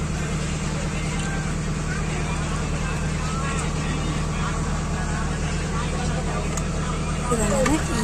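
A Majuli ferry boat's engine drones steadily and loudly as the boat sets off, a constant low rumble running throughout beneath a voice talking over it.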